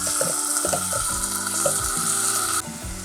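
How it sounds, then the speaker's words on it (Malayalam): Curd poured into a sizzling Kerala mutton curry masala hisses and bubbles loudly in the pan, with a spoon stirring and scraping underneath, close and continuous before the sizzle drops slightly near the end. "ഇനി ഇതിലോട്ട് 2 ടേബിൾ സ്പൂൺ തൈര് ഒഴിച്ച് കൊടുക്കാം."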